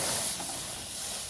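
Dal tempered with cumin and ginger hits a hot pan on a home stove with a steady broadband sizzle and hiss, loud at first and easing slightly, with no talk over it.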